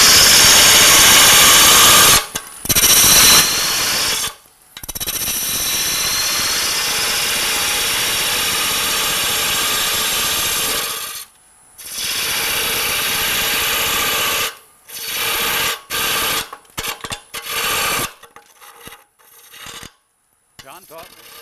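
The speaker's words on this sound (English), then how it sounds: "I'm going to just take some of the excess wood off" Wood being cut away from a turned hollow sphere on a lathe, a loud continuous grinding, rasping tool noise in long sustained bursts broken by short pauses, ending in choppy stop-start cuts.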